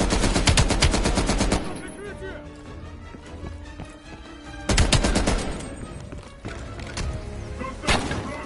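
Light machine gun from Call of Duty Cold War fires in loud rapid bursts, with a long burst at the start, a quieter stretch of game sound, then another burst and short volleys near the end.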